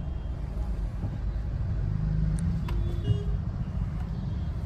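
Car turning through crowded festival-season traffic during Diwali, a steady low engine and road rumble with a few brief beeps and tones over the dense traffic noise.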